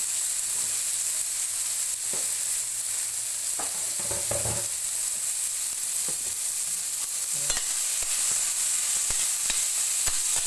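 Bitter gourd (ampalaya) fries in a pan for monggo with a steady sizzle, and a utensil stirs and scrapes through it now and then.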